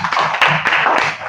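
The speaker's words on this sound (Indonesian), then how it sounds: "Kita tepuk tangan dulu." Classroom of students clapping together in an Islamic studies lesson, fast dense applause with sharp individual claps up close, steady and loud throughout the short burst.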